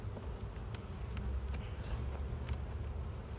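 Honeybees buzzing loudly and close during a hive inspection of a colony spread across six boxes, a dense continuous hum with occasional individual bees zipping past.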